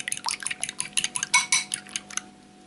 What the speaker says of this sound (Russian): Одно яйцо взболтаю вилкой.